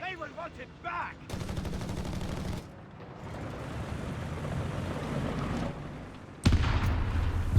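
Several machine guns firing in the World War II strategy game Company of Heroes 3, with sustained bursts of rapid fire and booming impacts, and a commentator talking over parts of it.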